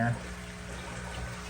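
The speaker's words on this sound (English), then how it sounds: "I just got to pour this in there manually, the rest of this water in there" Water pours by hand into a fish tank being refilled during annual maintenance, a steady, close rushing splash that holds evenly throughout the short moment.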